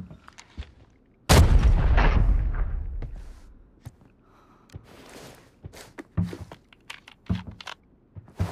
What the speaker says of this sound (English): I am going to throw grenade on him.